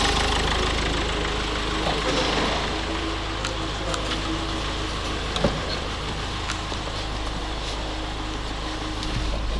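A newly fitted engine in a Mazda 6, replacing one that had been knocking, idles with a steady, even hum. The running stays constant throughout, with only faint mechanical ticks.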